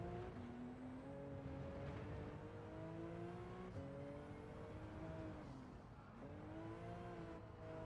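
A racing car's engine in Gran Turismo 7 on PS5 holds a steady, fairly loud drone, its pitch climbing through gear changes and dipping briefly before rising again, with no talking.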